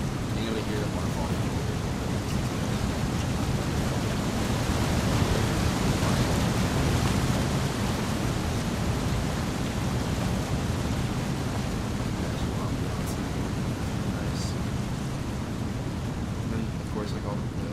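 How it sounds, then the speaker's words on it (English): Waterfall ambience in the dinosaur survival game The Isle Evrima, a dense, steady roar of rushing water that fills the whole stretch evenly and loudly, with no clear speech. "Being able to hear the waterfall."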